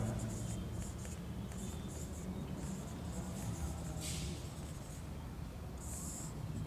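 Someone writes a phasor diagram on a classroom board: a steady, close scratching of strokes with a few brighter squeaks, over a constant hum.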